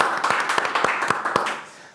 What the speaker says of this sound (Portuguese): Uma salva de palmas aí, gente.